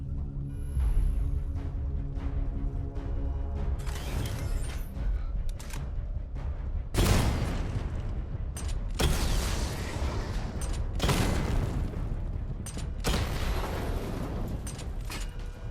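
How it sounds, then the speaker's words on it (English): Weapon fire and missile barrage in Batman Arkham Knight, a dense run of sharp blasts and booming explosions with mechanical clanks, loud and sustained, several big impacts in succession. "Destroy targets to charge up weapon energy and activate missile barrage."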